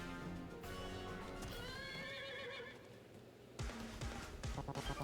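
A horse in a video game whinnies loudly in a long, shaky neigh, followed by brisk clip-clop hoofbeats, with no talking over it.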